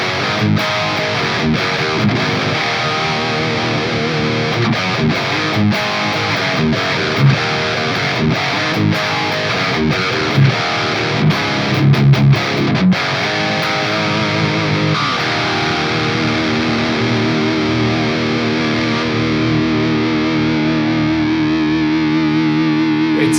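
An electric guitar played through a MAS Effects ISVRÅL overdrive pedal, with gritty distorted chords and riffs giving way to sustained ringing notes, loud and close, no talking.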